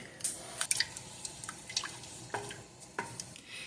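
Wild violet jelly coming to a boil in a pot, with soft scattered bubbling pops and drips at an irregular rhythm, close and faint, with occasional stirring.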